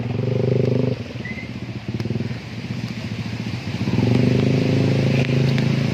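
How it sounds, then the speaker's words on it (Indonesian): A Honda Beat motorcycle rides through flood water on a Tangerang Selatan street, its steady engine drone mixed with churning water and splashing, loud and continuous throughout, rising near the end. "ini motor nih Beat"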